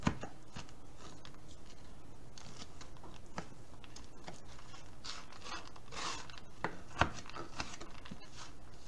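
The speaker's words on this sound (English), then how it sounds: "So I'm just going to chop, chop, chop. This is a big cherry." A knife chops dried cherries on a cutting board for hot cross buns, a steady run of quick, light, crisp taps in close succession, near and fairly quiet, with no talk.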